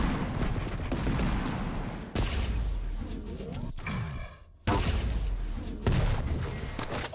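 Shotgun blasts in a Quake-style arena shooter duel: sharp, loud bursts with abrupt cuts and mechanical clatter between them, plus a brief quieter gap midway, with commentators talking over the action.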